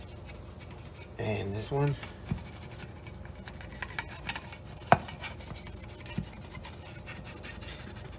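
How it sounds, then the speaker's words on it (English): A spatula scrapes around the edges of deep dish pizza pans in a home kitchen, giving soft, short rubbing and rasping strokes with a few light clinks, while a person talks briefly. "just take a spatula, and I'm just going to kind of go around the edges real quickly here on these"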